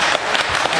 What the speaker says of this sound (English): Would you give a big round of applause to Doug?